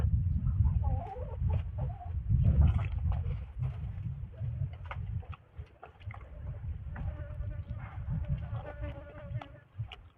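A flock of chickens gathers nearby, clucking in short, scattered bursts amid a steady background hum of buzzing flies and other small noises.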